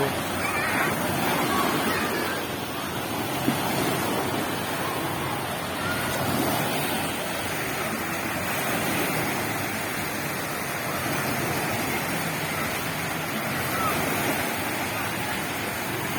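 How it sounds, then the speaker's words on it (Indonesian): Big ocean waves roll and crash in a steady broadband wash of surf, loud and continuous throughout, with people talking faintly beneath the roar. "Itu ada ombak. Tuh bagus tuh ombaknya tuh."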